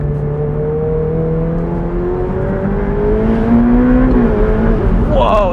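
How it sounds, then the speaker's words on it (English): A Ferrari 488 Pista's engine pulls hard at full throttle, a loud rising drone climbing steadily in pitch through the gear and shifting near the end, heard from inside the car. "Whoa, so yeah, full throttle"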